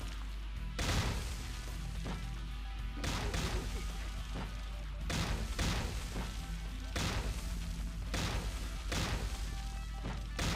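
Gunfire in the World War II strategy game Close Combat: Cross of Iron, set in a Stalingrad battle, with sharp bangs and cracks landing every second or two over a steady low rumble. The shots stay fairly distant and muted.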